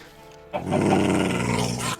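Wolf growling in the Minecraft video game, a continuous rough snarl that swells suddenly after a quiet moment, sustained loud and close for about a second and a half before cutting off.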